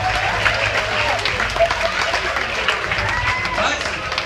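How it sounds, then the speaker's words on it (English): An audience at a hypnosis show aboard the Disney Fantasy cruise ship claps and cheers in a steady burst of applause, with a voice talking over the crowd. "Give her another round of applause."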